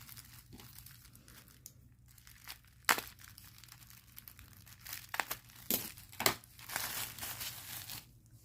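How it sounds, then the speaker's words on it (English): Bubble wrap handled up close, giving irregular crinkling and rustling with several sharp snapping pops scattered through, growing busier toward the end, with no talking. "To get some bubble wrap to play with."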